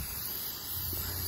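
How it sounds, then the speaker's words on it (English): An aerosol spray paint can hisses steadily onto a PVC pipe lightsaber hilt, a continuous close, broad hiss held for the whole moment with no voices. "I know I'm probably getting my shadow in the way of the shot of the spray paint"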